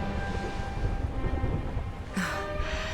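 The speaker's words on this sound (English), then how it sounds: "Would you look at it thundering away out there?" Low, steady rumbling thunder in a castle scene of the Dragon Quest video game, sustained and fairly distant, with a brighter crackling swell near the end.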